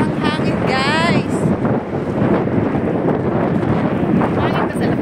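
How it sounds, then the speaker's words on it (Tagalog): Strong sea breeze buffets the microphone on a beach in Oman, a steady loud roar with rumbling gusts throughout, while people talk nearby. "Sobrang hangin, guys."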